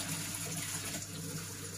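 Tap water runs steadily at close range over mushrooms (enoki among them) being rinsed in a bowl in a home kitchen, a continuous splashing flow with no speech.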